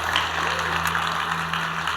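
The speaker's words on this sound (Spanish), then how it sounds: "Dale un fuerte aplauso a Jesucristo una vez más." Dense, steady applause from a large church congregation, a continuous wash of clapping with no pauses.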